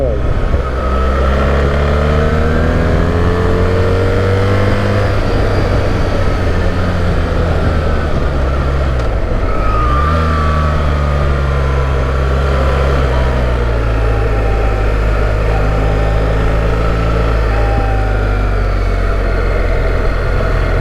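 A BMW R1300G motorcycle engine pulls hard and loud throughout, its pitch climbing through the gears, dipping at a shift, then rising again under strong wind rush.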